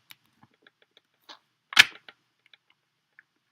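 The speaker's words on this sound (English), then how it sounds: "let's do one quick shuffle, a couple side shuffles here" Tarot cards being shuffled by hand, a few light taps and riffles leading to one sharp, close snap of the deck, then scattered soft clicks in an otherwise quiet room.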